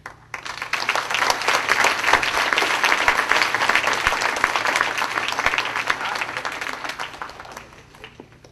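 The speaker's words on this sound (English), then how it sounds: "So once again, a round of applause for Dr." Audience applause at an international family retreat in Maryland, swelling quickly from a quiet start into a full, steady wash of clapping that holds for several seconds before tapering off.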